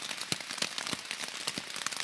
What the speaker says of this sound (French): Mais là, il pleut.